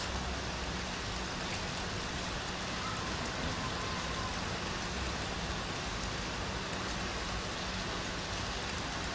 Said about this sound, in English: It's raining heavily at Longdon Place.